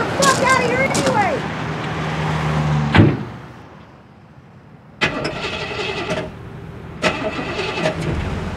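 A truck engine cranks and catches in short bursts, a loud, close rumble that drops away, then two more starting attempts follow a few seconds apart, with no one speaking.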